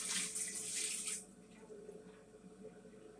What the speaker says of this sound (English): So you just dump the water inside the toilet.